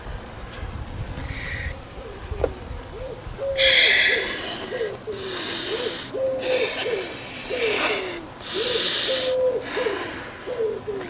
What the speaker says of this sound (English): Listen to the pigeon.